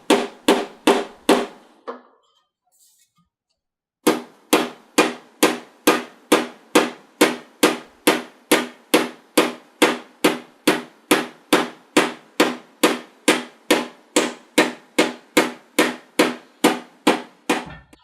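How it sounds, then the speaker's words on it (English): Steady, evenly spaced taps of a rubber mallet striking screws set in blind nuts in the wooden parts of a model racer, loud and close, pausing briefly near the start before continuing in a regular rhythm. "the best way to get these blind nuts out is to put the screws in and tap them"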